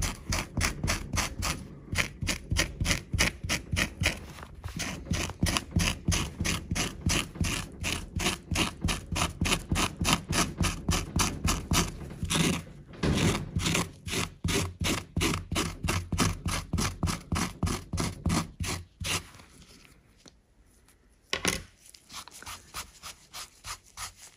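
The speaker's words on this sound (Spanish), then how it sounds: "ponemos una espátula. Y lo quitaríamos." A spatula scraping a DTF print off fabric, a fast rhythmic series of rasping strokes that run steadily and loudly, pause briefly near the end, then trail off into a few final scrapes.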